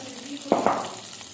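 Garlic fries in ghee in a pan over low heat, giving a soft, steady sizzle with a couple of brief stirring scrapes near the middle.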